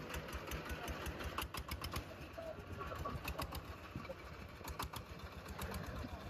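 A compact heavy-duty machine's engine runs after starting, giving a quiet, steady idling chug with regular light ticking pulses throughout.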